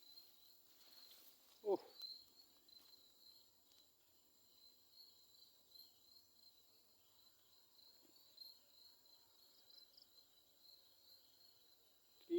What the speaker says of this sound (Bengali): এখানে কি কি জানি একটা ঝিঝি পোকা